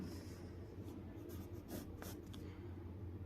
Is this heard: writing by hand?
yes